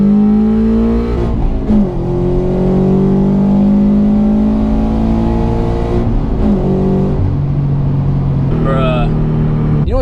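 A 2013 Scion FR-S with a manual gearbox pulls hard with traction control off, heard from inside the cabin. The engine climbs loudly through the revs, with brief dips at the gear shifts, and a voice speaks over it.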